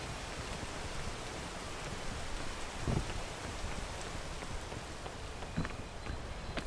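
Rain in the video game PEAK, a steady soft hiss of falling rain with a few brief louder taps, faint and continuous.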